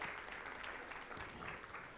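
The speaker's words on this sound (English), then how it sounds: "give a round of applause to Faith and Harry" Audience applause at a fintech summit for two people, Faith and Harry, a short even patter of many hands, faint and roomy with no voices.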